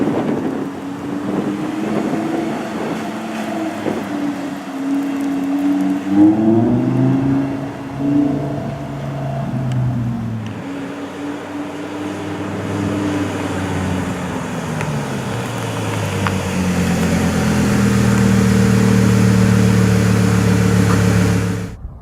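An Audi R8 rolls slowly out into the sunlight, its engine droning low and shifting in pitch as it moves, with wind buffeting the microphone and a rising engine note near the end.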